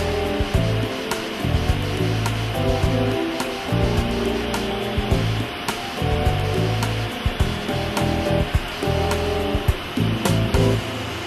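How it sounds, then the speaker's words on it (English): Twenty-six CNC machines running together on a dental implant factory's machine shop floor, a loud continuous mechanical hum and whir with layered tones and scattered clicks and knocks throughout. "We're on the machine shop floor of Implant Direct. What you see here are 26 CNC machines"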